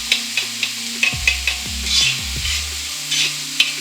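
A spatula stirs chopped yellow sweet onion frying in a pan, giving soft scraping strokes and clicks at a steady pace over a constant close sizzle.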